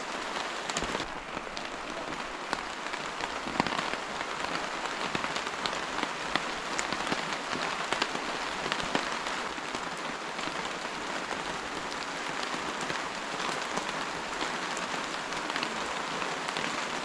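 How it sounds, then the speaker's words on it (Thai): Heavy rain pours steadily in a forest, a dense close hiss of drops striking leaves and ground that stays loud and unbroken throughout. "โอ้ฝนตก"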